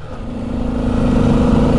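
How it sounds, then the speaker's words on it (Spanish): A motorcycle on a mountain road in northern Argentina near the Tren de las Nubes railway, its mid-pitched engine droning and growing steadily louder as it approaches, loud and unaccompanied by talk. "¡Es otra moto!"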